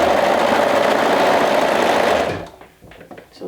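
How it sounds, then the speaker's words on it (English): A serger stitches a small short-sleeve seam with a loud, steady whir for just over two seconds, then winds down and stops, leaving a few faint handling sounds. "I will be using a serger for this step"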